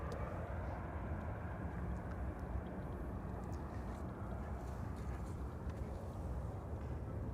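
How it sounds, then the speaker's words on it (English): An Airbus A400 military transport approaches Amsterdam Schiphol airport to land, a faint, distant, steady broadband roar of propeller engines heard outdoors without talk. "just now we witnessed an Airbus A400 that is making its way over to Schiphol"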